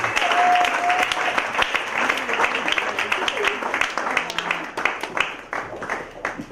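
An indoor audience gives loud, sustained applause, dense clapping at first that thins toward the end into scattered individual claps, with some voices under it.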